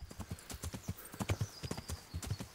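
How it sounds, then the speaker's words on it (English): Hooves of a starting horse clip-clop steadily in Kingdom Come: Deliverance, a quick, even walking rhythm close up with faint other game sounds behind. "This horse that we have is just the starting horse"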